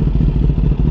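Kawasaki ZX10R superbike fitted with an SC Project SC1-R exhaust, revving loudly up close with a deep, pulsing, rapid engine throb held steady for under a second, no voices over it.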